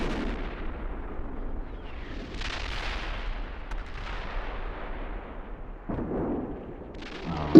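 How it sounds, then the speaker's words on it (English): Artillery and MLRS rockets pound positions in a military video game, a continuous rumbling barrage of distant blasts and booms rolling over one another, with a sharper crack near the end. "And suddenly all our positions get obliterated by artillery."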